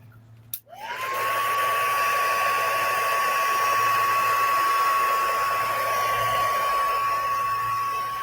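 A hair dryer blowing on a craft project to dry it clicks on and settles into a loud, steady whooshing roar with a constant high whine, running alone without talk.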